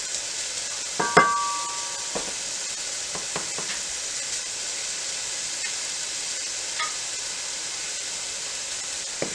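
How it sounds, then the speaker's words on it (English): Diced pork belly browns in a pan with a steady sizzle and hiss, broken by a few scraping stirs and clinks near the start, then settling into an even frying sound. "Cook the meat until it's brown"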